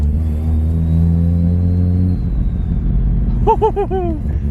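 A Mazda RX-7 engine rumbles and then revs up and down in quick bursts, loud and close, with a deep exhaust growl.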